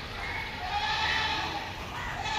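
Goats bleat in a crowded livestock market at Deonar, Mumbai, their calls rising over a dense, loud background of crowd murmur and general market din.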